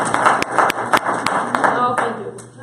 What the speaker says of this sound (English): We could probably clap